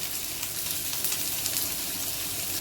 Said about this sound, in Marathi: त्यामध्ये कांदा आणि हिरवी मिरची आपल्याला दोन्ही आता एकसाथ परतून घ्यायचे